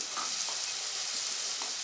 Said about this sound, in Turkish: Şimdi havucumuzu ilave ediyorum